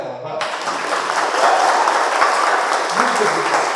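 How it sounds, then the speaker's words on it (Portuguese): A burst of hand clapping from a small crowd starts suddenly and continues steadily, loud and close, with a voice briefly heard beneath it. "Palmas para ela, vai."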